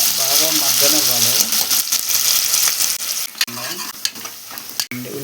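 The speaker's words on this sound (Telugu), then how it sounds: "ఇప్పుడు ఉల్లిపాయలు వేసుకుంటున్నాం. ఉల్లిపాయలన్నీ కూడా బాగా మగ్గనివ్వాలి." Onions sizzle and fry steadily in a pan for chicken pulao, a dense hiss running throughout, with a few stirring knocks and a voice talking over the cooking.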